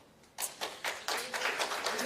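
A conference audience claps for sponsors: a few scattered claps start, then quickly swell into a fuller round of applause, moderately close and sustained to the end.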